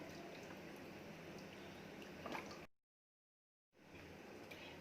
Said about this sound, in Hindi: कढ़ी में उबाला आना शुरू हो गया।